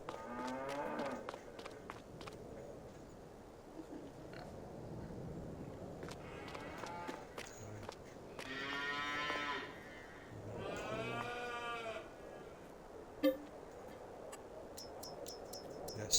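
Cows moo in Farming Simulator 22 on the Silverrun Forest map, with two long, drawn-out lowing calls close together in the middle amid a soft ambient background, and faint talk and light ticks around them.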